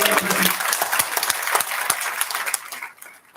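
Applause from the audience at an astrology institute's convocation and inaugural function, brisk clapping that thins out and tapers off toward the end.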